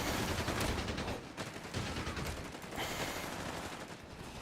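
Rapid bursts of machine gun fire from a Company of Heroes 3 battle, loud and dense, with overlapping rattling volleys and battlefield clatter continuing throughout.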